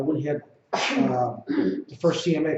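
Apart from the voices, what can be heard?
person sneezing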